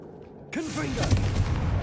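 Confringo blasting spell cast in Hogwarts Legacy: a sudden fiery burst erupts and rolls on as a sustained roar, with a brief vocal-like sweep at its onset.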